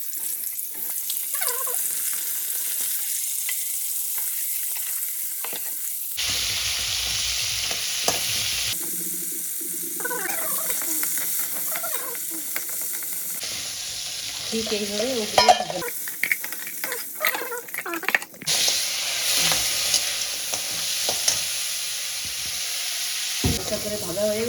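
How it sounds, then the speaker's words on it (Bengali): Crab frying lightly in hot oil in a wok, a steady sizzle with stirring scrapes and clatter, interrupted by brief pauses and a clunk or two, while a person speaks briefly nearby. "এখন এটাকে হালকা করে একটু ভেজে নেব"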